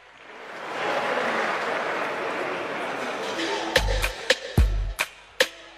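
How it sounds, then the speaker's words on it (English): A music awards audience claps in a soft, steady wash of applause that builds and holds, followed by several sharp loud knocks or thumps near the end. "A round of applause, please"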